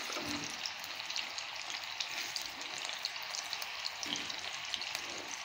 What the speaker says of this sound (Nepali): स्लो फ्लेम पे फ्राई करने का ये फ़ायदा होगा कि तमाम कबाब अच्छी तरह फ्राई होंगे